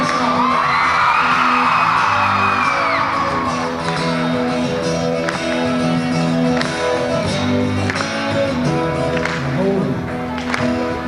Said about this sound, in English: Let me hear your rodeo yell.